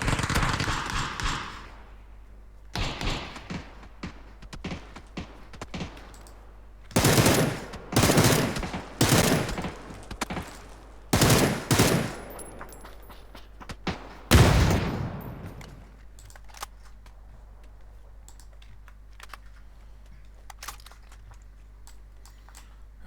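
Bursts of automatic gunfire in the battle royale game PUBG, several sharp volleys and rapid strings of shots spaced across the stretch, loud and close, then fading to quieter ambient rumble with scattered distant pops.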